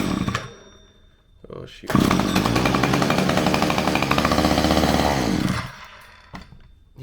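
A Stihl 010av chainsaw, once without spark or compression, sputters into life and runs loud and steady for several seconds before cutting out, with brief talk at the start.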